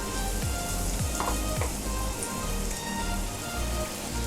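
Spoonfuls of lentil batter for bhalla frying in hot oil over low to medium flame, a dense, steady close sizzle with a few soft plops as batter drops in, no voices.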